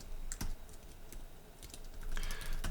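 Computer keyboard typing while coding, with scattered close key taps and a denser burst of keystrokes near the end, quiet and heard alone.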